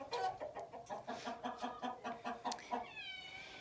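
Chickens cluck in a steady run of short, close, fairly loud calls as they get ready to roost on an overcast evening. A few higher notes break through, and the sounds trail off near the end.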